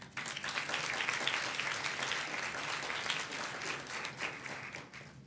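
Sustained audience applause at an award ceremony: steady, dense clapping from a large crowd that holds at an even level for several seconds, then tapers slightly near the end.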